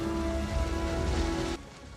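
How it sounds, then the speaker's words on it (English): Steady rain from a film scene pours down as an even, continuous hiss over a low rumble, cutting off abruptly near the end. "The rain."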